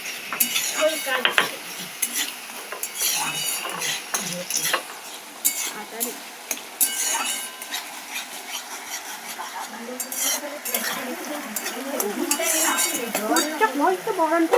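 Pumpkin and tomato pieces stirred in a frying pan for a paneer curry: repeated scraping and clinking of a utensil against the pan over continuous sizzling, loud and close, lasting throughout.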